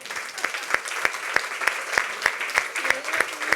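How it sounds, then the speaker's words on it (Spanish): Rhythmic clapping from a crowd at a talk on AI and democracy, with sharp regular claps standing out above a steady wash of applause, fairly close and lively. "¡Un aplauso!"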